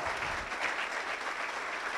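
Steady church applause for the Lord from a congregation, a dense continuous wash of clapping with little talk.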